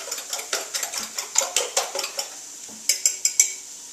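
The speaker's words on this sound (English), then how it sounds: "we're going to beat the eggs, or scramble them, or whatever you want to call them. Take a fork, you don't need a whisk" Eggs are beaten with a fork in a bowl for a frittata, giving a quick, regular run of sharp metallic clinks close by, a brief pause, then another fast burst of taps, with no talk.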